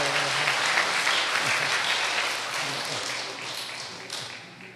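A church congregation gives a sustained round of applause, dense and steady, easing slightly toward the end, with no voices over it.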